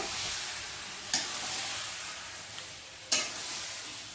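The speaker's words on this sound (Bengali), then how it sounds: "মাংসটা আস্তে আস্তে কষুক" Chicken braises slowly in a pan, sizzling softly and steadily nearby, with two brief sharp scraping stirs a couple of seconds apart, and no voices.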